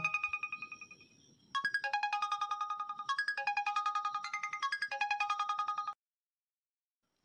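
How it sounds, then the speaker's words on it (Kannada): A mobile phone ringtone plays a bright, repeating electronic melody for several seconds, then stops abruptly into silence. "ಫೋನ್ ತಗ ನೋಡೋಣ ಯಾರದ್ದು ಫೋನ್ ಅದ"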